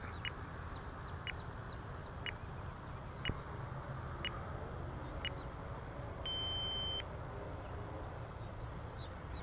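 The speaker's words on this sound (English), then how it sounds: "Oh, there's our timer." Electronic timer beeping during an RC plane flight, evenly spaced short beeps about once per second over steady wind and motor noise, followed by a brief sustained tone near the end.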